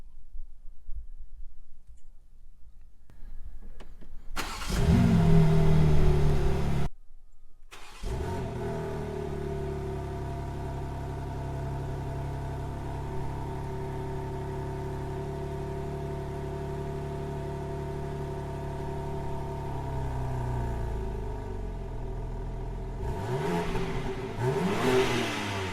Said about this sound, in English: let's fire up this vehicle